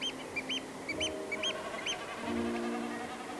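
Birds call in repeated short honking bursts, fairly faint, over a low rumbling outdoor background.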